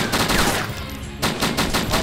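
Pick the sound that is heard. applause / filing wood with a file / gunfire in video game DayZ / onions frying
gunfire in video game DayZ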